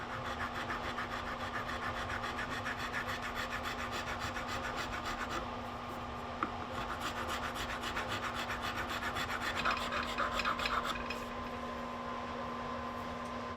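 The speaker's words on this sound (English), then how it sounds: "it's easiest for me to do that with a file" A metal file rasps steadily against the butt of a curly maple knife handle, continuous scraping strokes close up with a constant low hum underneath and no talking.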